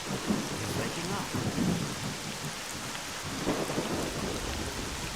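Heavy rain falls in the video game STALKER: Clear Sky, a dense continuous hiss of drops with low rolling thunder rumbling underneath, steady and fairly loud with no voices.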